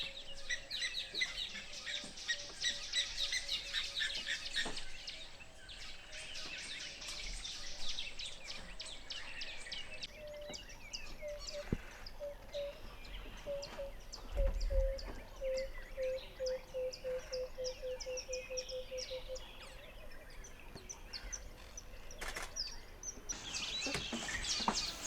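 Birds call around a hide in Kruger park in summer, with faint scattered chirps and a thin repeated whistle over quiet outdoor ambience.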